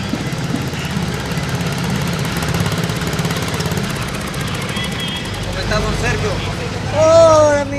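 An old engine chugs and rattles steadily at close range, its rough mechanical drone continuing, with a brief higher whine near the end.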